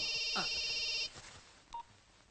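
A telephone rings in a dramatic film scene, a bright electronic trill sounding clearly for about a second before cutting off, followed by quiet room tone and a short faint tone.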